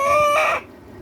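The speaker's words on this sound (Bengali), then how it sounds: "জাফরের মুরগি ধরা ঠিক আছে।" An eight-month-old egg-laying Faomi hen gives one loud, sharp squawking cluck as she is caught. The call lasts about half a second and then cuts off into quiet.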